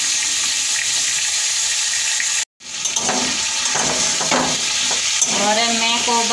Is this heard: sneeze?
no